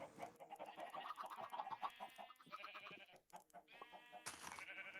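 Chickens cluck and squawk in a busy, uneven series of calls, close and clear, with a few sharper cries near the end.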